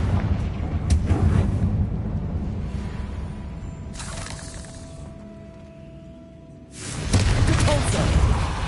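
Fiery spell blasts from Hogwarts Legacy on PS5, loud booming bursts opening and closing the stretch with a quieter rumbling lull between them, plus a brief steady tone in the middle.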